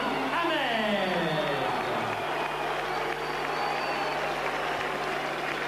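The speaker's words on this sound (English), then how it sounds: "Subdued applause, it has to be said, and maybe even grudging applause from the more partisan of the Robinson followers" Subdued, somewhat grudging applause fills a boxing arena after a WBO featherweight title bout ends. Steady, dense clapping and crowd noise run throughout, with a commentator's voice over the top.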